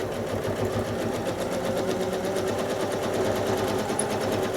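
A sewing machine stitches pebble shapes in free-motion quilting on a basket block, a fast, even, continuous mechanical chatter heard up close with no voices.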